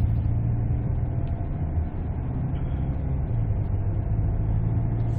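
Hyundai Staria van, a 2023 model, accelerating on a test drive, heard from inside as a steady low engine and road rumble that holds constant throughout with no speech.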